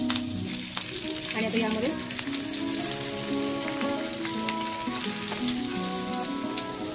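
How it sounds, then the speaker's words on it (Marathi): Unpeeled garlic cloves and curry leaves fry in hot oil with a steady, dense sizzle and crackle throughout, while someone speaks briefly over it. "यामध्ये मी लसूणच्या साल न काढलेल्या पाकळ्या टाकते आणि कढीपत्ता"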